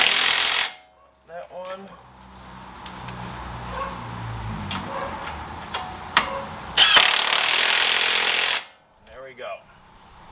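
An impact wrench drives Ford Mustang brake caliper bolts during a big brake upgrade, firing in short hammering bursts of about a second, then a loud sustained burst near the end, with brief talk between.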